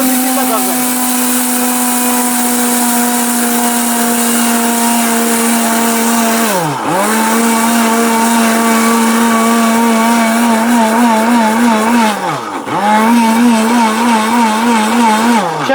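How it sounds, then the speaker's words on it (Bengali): A powerful 1000-watt steel blender whirs loudly and steadily, its motor pitch dipping briefly twice as the load shifts, then climbing back to a high, strained drone. "পাওয়ারফুল ব্লেন্ডার দেখেন উঠতেছে"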